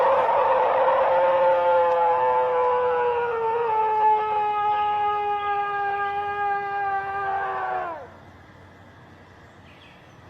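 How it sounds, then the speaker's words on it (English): Deep, thunderous growl echoing through a forest, a long sustained howl-like tone that slides slowly downward, loud and alone for about eight seconds before cutting off into quiet. "a strange, thunderous growl echoed through the trees, loud, deep, and unsettling"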